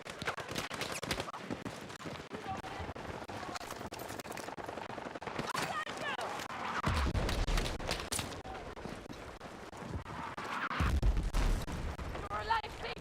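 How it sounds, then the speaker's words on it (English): Mortar and gunfire rattle across a Battlefield 6 battle, scattered bursts and heavier booms around 7 and 11 seconds over a continuous combat din, with a voice talking underneath. "Oh no, the mortars. Oh wait, that's our mortar."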